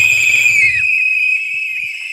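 Several people blow whistles together, producing a shrill, sustained high-pitched tone that is loud and close, with a burst of rougher noise at the start before settling into a steady whistle.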